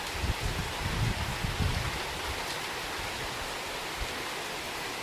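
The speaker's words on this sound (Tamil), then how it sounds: "மழை ஸ்டார்ட் ஆயிடுச்சு." Rain begins in Karaikudi, a broad steady hiss of falling drops with a few soft thuds near the start, even and moderately quiet throughout.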